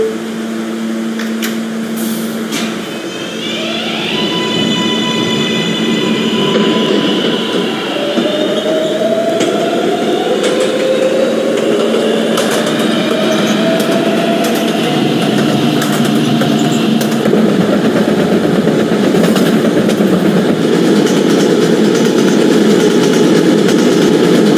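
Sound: subway train running, from a video game

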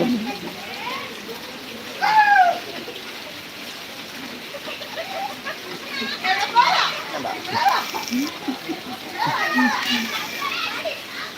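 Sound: children splashing and playing outside in the rain

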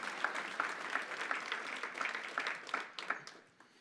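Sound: audience clapping

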